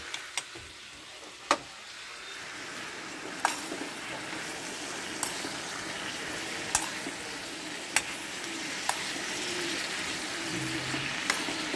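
Dry fish frying in a pan, a steady close sizzle and crackle with a few sharp ticks and clicks of stirring scattered throughout, no voices.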